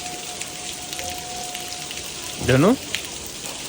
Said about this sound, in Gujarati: ભાઈ શું વરસાદ વરસી રહ્યો છે.